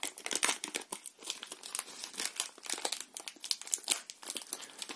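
Plastic packaging from a PC case parts box crinkles and rustles in quick irregular bursts as it is opened and handled close up, with no talking.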